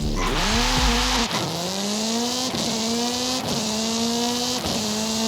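A rally-style car engine in the racing game Forza Horizon 5 gives a loud, high-pitched rev that drops and climbs again through several quick gear shifts, steady and close.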